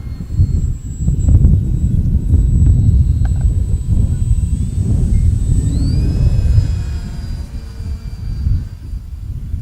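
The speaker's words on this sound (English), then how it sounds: "that wind just keeps blowing" Steady wind gusts buffet the microphone outdoors at a model airfield, a deep rumbling roar that swells and eases throughout, with the thin whine of a small 1050mm Waco biplane's motor passing overhead.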